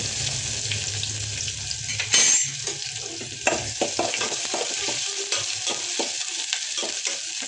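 Urad dal, mustard seeds, onion and green chili frying in oil, a continuous close sizzle broken by stirring scrapes and a few sharper utensil knocks, no one speaking.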